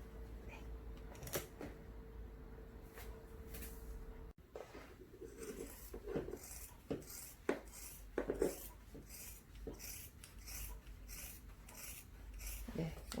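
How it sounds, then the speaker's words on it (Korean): Scissors cutting through four layers of thick fabric, a repeated rough crunching and rasping of stiff blades closing, close and fairly quiet, with irregular snips and scraping. "원단이 조금 도톰한 관계로 가위가 빡빡하게 돌아가고 있습니다"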